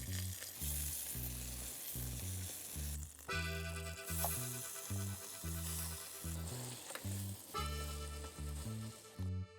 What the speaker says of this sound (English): Seal the meat on one side first.